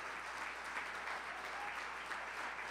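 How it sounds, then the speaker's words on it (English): An audience applauds at a mayor's remarks during an event at DC Central Kitchen's The Point venue, a steady wash of many hands clapping continuously, moderately distant and fairly soft, with no voices over it. "Let's give them a round of applause."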